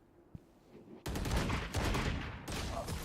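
A Valorant match erupts into loud gunfire after a faint, quiet start, including Sheriff pistol shots, with a dense volley of shots followed by a second burst.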